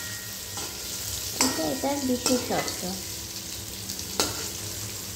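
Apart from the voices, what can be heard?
tofu frying in oil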